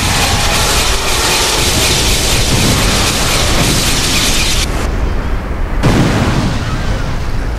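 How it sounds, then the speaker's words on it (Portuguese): Continuous loud, roaring jutsu explosion noise from GTA San Andreas fills the whole stretch, a dense sustained blast with a brief drop in the highs near the end. "Só tome cuidado com as explosões pra você não morrer"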